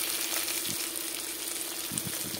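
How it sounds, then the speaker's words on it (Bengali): Fish frying in a pan gives a steady, close, moderately loud sizzle with a few soft bubbling bursts and no talking. "এখানে মাছগুলো ভাজা বসিয়ে দিলাম।"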